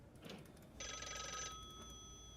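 Telephone ringing in a noir detective video game, one electronic bell trill that is fairly loud and steady, with the tone ringing on briefly afterward over low background noise.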